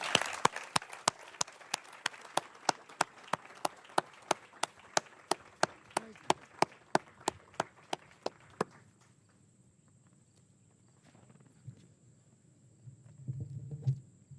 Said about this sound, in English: So can we please have a big round of applause for Mr. Fred Leitert as he comes up to the podium,